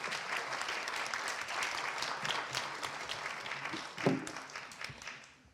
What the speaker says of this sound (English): they're here and deserve our applause.